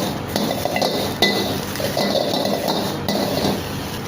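Cabbage, carrot, julienned capsicum and onion roast in a pan for chicken Hakka noodles, making a loud steady sizzle broken by occasional metallic clinks of a utensil against the pan.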